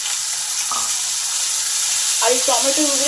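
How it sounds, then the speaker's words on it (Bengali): Chopped tomato hits hot oil with frying cumin and chillies, giving a steady broadband sizzle throughout, with a voice speaking over the latter part. "জিরে আর লঙ্কাটা ভালোভাবে ভাজা হয়ে গেছে, একটা টমেটো কুচানো আছে সেটা দিয়ে দিলাম"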